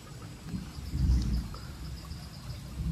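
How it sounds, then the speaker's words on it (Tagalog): Low thunder rumbles and swells in the distance on a waterfall trail in Nasugbu, Batangas, over a steady bed of insect chirping and faint outdoor noise, with no voices. "Kumukulog na."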